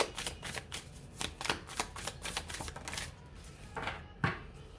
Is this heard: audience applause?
no